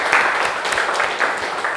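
Schoolchildren in a classroom clap together in a short, lively burst, with the individual claps rising and falling close by.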